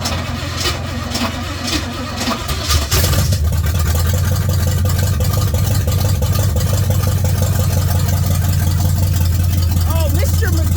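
A Pink Jeep engine turns over and catches, then settles into a loud, steady low rumble that holds to the end, with people talking nearby.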